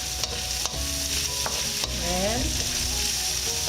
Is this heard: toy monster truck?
no